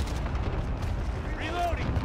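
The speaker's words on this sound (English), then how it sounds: "Enemy cluster strike incoming, take cover." Cluster strike explosions in Call of Duty Modern Warfare Ground War multiplayer rumble as a dense, continuous low booming barrage, heavy and loud, with game voice callouts on top.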